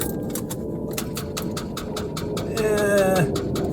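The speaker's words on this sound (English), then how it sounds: "You can hear that clicking sound." A car starter clicks repeatedly on a dead battery in frosty cold, a fast, steady run of sharp clicks close by, joined near the end by a brief rising whine.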